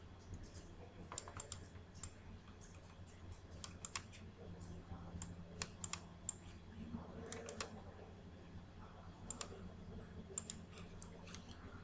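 Quick, irregular clicks from typing on a computer keyboard, faint and close, come in short bursts with brief pauses.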